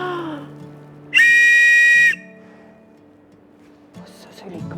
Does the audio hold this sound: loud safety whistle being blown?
yes